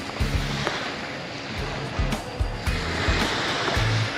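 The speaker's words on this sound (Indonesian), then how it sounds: "Tapi inilah pantai." Waves wash onto the sandy beach at Port Dickson, Malaysia at night, a continuous broadband roar of surf with faint thuds as the water breaks, steady and fairly loud with no talking.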